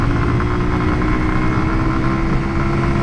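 A 2018 Zontes Monster 125cc motorcycle engine runs loud and close, a dense buzzing drone with rough pulsing texture, holding steady through the short stretch with no voices.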